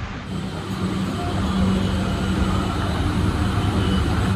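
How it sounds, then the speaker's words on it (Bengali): A metro train at Kalighat metro station in Kolkata gives off a steady, loud broadband rumble that swells slightly and then holds on, with no voices above it. "ইতিমধ্যে নামলাম কালীঘাট মেট্রো স্টেশন।"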